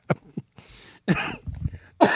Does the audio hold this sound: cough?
yes